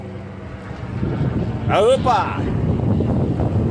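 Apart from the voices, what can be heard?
wind blowing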